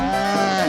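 A cow lets out a single short, loud, low moo, steady and close, with no talk over it, in the style of a fairy tale about the gingerbread man running past an old woman's cow.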